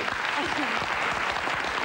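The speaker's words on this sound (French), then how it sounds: "Je vous demande de les applaudir tous très fort sur Europe 2." Enthusiastic applause from a studio audience on a French radio show, steady and dense throughout, with some voices and cheers mixed in.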